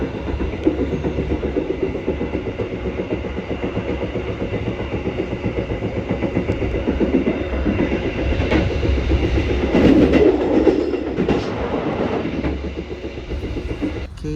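KA Supas passenger train running on rails near Tanggulangin station, with a steady rumble and rhythmic clickety-clack of wheels on track joints, loud and close, rising slightly midway, with no voices.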